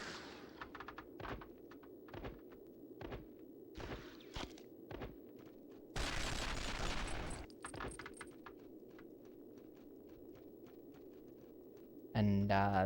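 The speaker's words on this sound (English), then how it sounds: "I'm getting sniped from somewhere." Sniper gunfire in the Xbox shooter Special Forces: Nemesis Strike: a string of sharp, separate cracks spaced through the clip, with a longer burst of noisy firing in the middle and a loud final blast, all over a low game backdrop.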